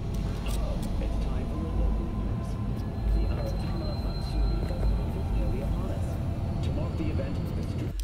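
A helicopter in the video game Cyberpunk 2077 gives off a steady, dense engine rumble with a low throb that holds loud and unbroken from start to finish, with faint game sounds scattered on top.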